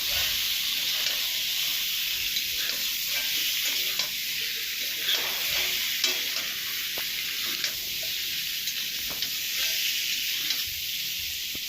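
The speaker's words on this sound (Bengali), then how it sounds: "এখন টমেটো দিয়ে আরও কিছু সময় কষিয়ে নেওয়া হবে" Tomatoes sautéing in a pan for an Indian-style katla fish curry with potatoes, giving a steady, close bright sizzle with occasional stirring scrapes throughout, no voices.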